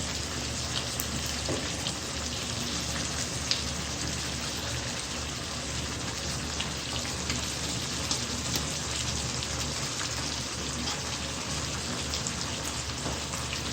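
Sliced onions frying in a pan for a spaghetti dish, a steady hissing, rain-like sizzle that holds evenly for the whole stretch, with a few small pops.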